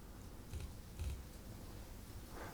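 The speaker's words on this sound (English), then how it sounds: "The clicking noise is the noise of each of these strikes on screen." A lightning strike tracker gives faint, sparse clicks, a few separate ticks, one for each strike shown on screen during an incoming electric storm.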